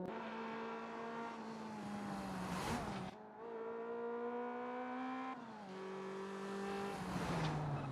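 A race car in a video game drives steadily with a high, buzzing engine whine that rises through the gears, dips briefly at each shift, then climbs again, loud and continuous with no talking.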